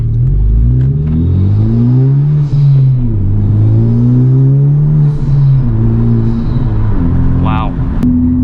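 A 2021 Civic Type R engine with an MAP track exhaust revs up and down in long rising and falling sweeps, loud and close, with a throaty exhaust tone throughout.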